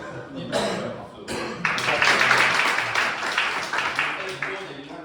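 An audience applauds with a burst of hand clapping that swells, holds, then thins out, with speech mixed in around it.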